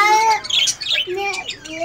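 Budgie parakeets chirp and squawk close by in a small home aviary, a busy run of bright, overlapping tweets, with voices talking among the calls.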